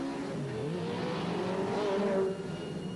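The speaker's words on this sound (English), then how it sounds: "the cars started their warm-up lap" Late-1990s Legends race cars roar together on a warm-up lap, their engines forming a loud, continuous drone whose pitch rises and falls as they accelerate, with no talking.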